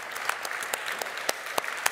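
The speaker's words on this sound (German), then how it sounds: "Erstmal ein Applaus für Sie." An audience at a New Year's reception panel event gives brief applause, a short patter of many hands clapping at moderate loudness.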